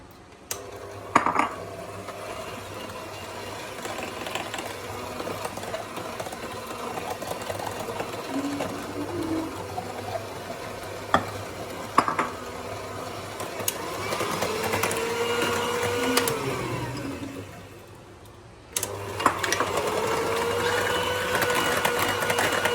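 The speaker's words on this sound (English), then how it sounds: "If you have an electric beater, you can use an electric beater." An electric beater whirs steadily as it mixes eggs into marble cake batter, with occasional knocks and clinks against the bowl throughout.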